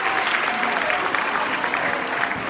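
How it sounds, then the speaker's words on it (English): Steady, dense applause from an audience at a live caricature artist show in Singapore, continuous and fairly loud across the whole stretch with no break. "Let's give him a round of applause"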